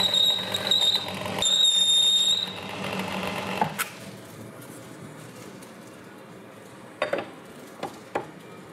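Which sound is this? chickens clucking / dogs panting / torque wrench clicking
torque wrench clicking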